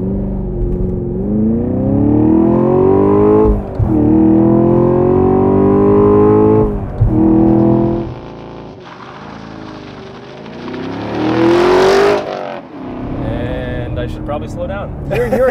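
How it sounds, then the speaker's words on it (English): A 2022 Chevy Camaro SS 1LE launches hard on the road, its V8 note climbing in long pulls, dropping briefly between gear shifts and then revving again. The engine is loud and close, with people talking over it inside the car. "I've never launched this car."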